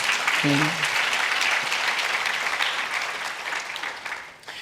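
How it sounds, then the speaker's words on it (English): A crowd claps steadily and loudly throughout, a dense wash of applause that thins slightly toward the end, with a brief voice near the start. "It needs a round of applause."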